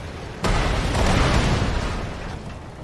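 A tank cannon fires in a Cold War real-time strategy game: one sudden, loud, deep boom hits hard, then rumbles and echoes for more than two seconds as it slowly fades.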